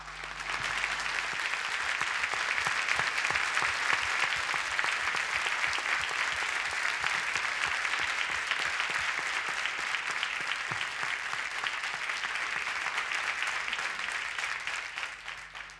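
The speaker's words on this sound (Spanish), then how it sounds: "me gustaría que le diéramos un aplauso a su memoria" A conference audience at a Latin American public television meeting applauding in memory of disappeared journalists, a dense, steady wave of clapping sustained evenly for about fifteen seconds, slightly distant.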